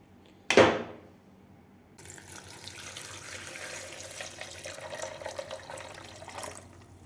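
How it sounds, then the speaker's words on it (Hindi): Tap water runs steadily into a kitchen vessel while a mint margarita is being prepared, a continuous close splashing hiss that begins after a sharp clatter and holds without talk. "ये आ गया पानी।"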